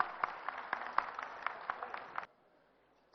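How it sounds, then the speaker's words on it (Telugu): Audience applause at a stage tribute to Shobhan Babu's films: dense, steady clapping from a crowd for about two seconds, then cutting off abruptly into near silence. "ఒకసారి గట్టిగా చప్పట్లు కొడదాం అందరం."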